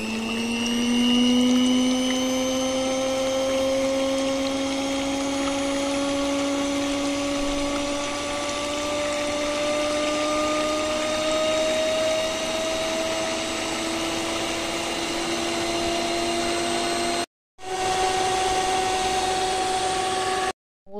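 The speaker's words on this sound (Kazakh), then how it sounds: "Осылай жұмыртқамды миксерлеп алдым." An electric hand mixer whirs continuously while beating four eggs, its motor pitch steady and gradually rising, with a brief cutout near the end before it resumes.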